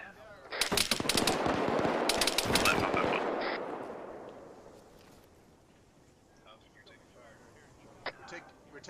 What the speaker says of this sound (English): those are friendly mortars are about to go out to the east